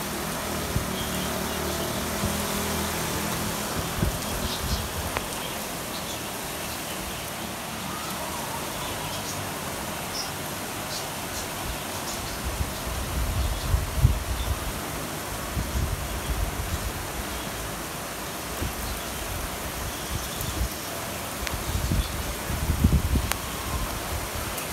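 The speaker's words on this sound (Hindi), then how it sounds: "बहुत तेज़ बारिश हो रही है" Heavy rain in Karachi with a cool wind, a steady close hiss of downpour on surfaces and a few gusty low rumbles, continuous for about twenty-five seconds, with a faint voice now and then.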